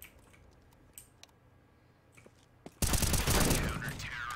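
Gunfire in CS:GO, with a few faint isolated clicks and shots followed by a sudden loud, sustained burst of rapid fire.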